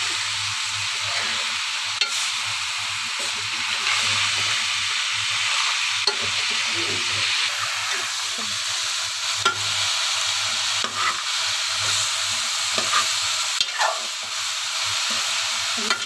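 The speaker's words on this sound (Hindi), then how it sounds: "मैंने सब्ज़ी भी इसमें डाल दी है, मैं इसको अच्छी तरह मिक्स करूँगी" Mixed vegetables stirred and fried with spices in a pan, a continuous loud sizzle broken by regular scraping strokes and light clanks of the spoon, close up with no speech.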